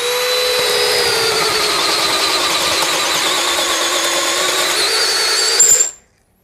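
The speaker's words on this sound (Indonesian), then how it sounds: "Saya mau coba ngebor yang posisinya miring seperti ini ya" A DeWalt DCD805 cordless drill at speed 1 in drilling mode runs a 25 mm auger bit at an angle, a loud, steady whine with rising pitch that cuts off abruptly at the end.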